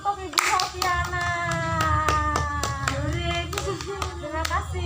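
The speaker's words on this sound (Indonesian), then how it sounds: "Oke, beri tepuk tangan untuk Ibu Sofiana." Audience applause in a hall after a health-education demonstration on correct breastfeeding technique, a steady burst of many hands clapping for several seconds, fairly near and moderately loud.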